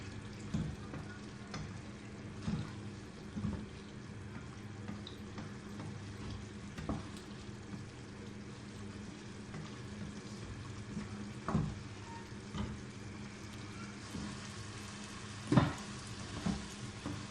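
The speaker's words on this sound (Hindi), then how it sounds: "अब इसको हम तेज आंच पर फ्राई थोड़ा कर लेंगे।" Chicken and softened potatoes fry over a high flame, a quiet steady sizzle with scattered spoon scrapes and occasional clinks, one sharper knock late on, heard close with no speech.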